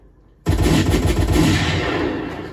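A sudden loud burst of gunfire after near silence, a rapid rattling volley that rings on and slowly fades, close and with no voices.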